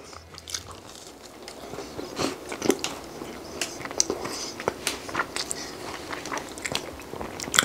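Bites and chewing on a long, soft, chewy cookie with slightly crispy edges, close and intimate, with repeated crunchy crackles and moist mouth sounds in an uneven rhythm.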